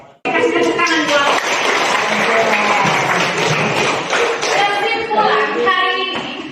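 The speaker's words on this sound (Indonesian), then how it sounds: "Kasih tepuk tangan buat." Students in a classroom clap for a student group, a dense, steady burst of applause lasting several seconds, mixed with excited voices and chatter throughout.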